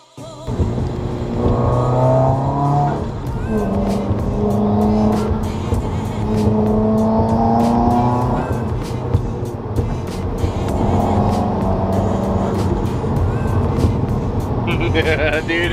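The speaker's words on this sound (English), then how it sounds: "Dude, it sounds so good." A tuned Subaru WRX with a built block running on ethanol flex fuel, its engine revving hard in repeated rising pulls, loud and close, with a voice talking over parts of it.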